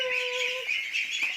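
Farm ducks and chickens call, with one sustained tonal cry followed by scattered chirps and clucks over a busy bird-filled background, fairly loud and near.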